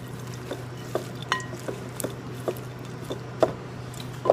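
Seasoned superfood trail mix being stirred by hand in a bowl with toasted sesame seed oil, giving soft scattered scrapes and rustles at an irregular rhythm, fairly quiet, with no talking.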